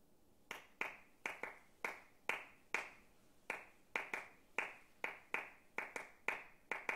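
A drummer claps out a syncopated rhythm from a drum method book, about eighteen sharp, close hand claps in uneven groupings, alone in a quiet room.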